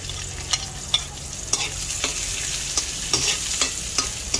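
Onion and garlic fry in a pan with pork, giving a constant bright sizzle broken by repeated sharp clinks and scrapes of a utensil stirring, close and without talk.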